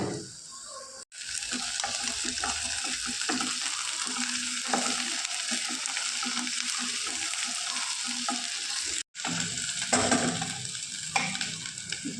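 Paste frying and crackling in a hot pan for a white sauce chicken pasta, a steady close sizzle with stirring scrapes throughout, briefly cut out twice.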